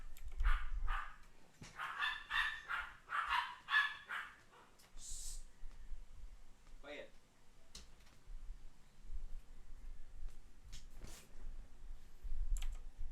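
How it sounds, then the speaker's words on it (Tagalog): Several dogs bark and fuss in short bursts while harassing a cat indoors, the yaps fairly close, followed by quieter clicks and room noise. "nagkagulo na naman ang dogs ko kasi kinukulit na naman nila yung mga yung pusa namin"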